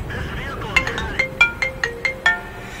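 A mobile phone ringtone plays a series of bright, evenly spaced electronic notes, loud and close, over faint background noise during a World of Tanks gaming session.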